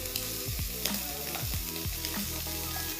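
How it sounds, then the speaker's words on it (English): Shrimp stir-fry in a hot pan, a steady close sizzle broken by repeated clinks and scrapes of a utensil tossing them at an irregular rhythm. "Just stir fry them until they turn pink."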